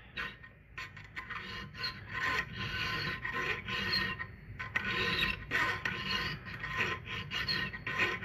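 A file rasps in quick, repeated strokes as a full-chisel chainsaw chain is square filed, a close, gritty scraping rhythm with short pauses between passes.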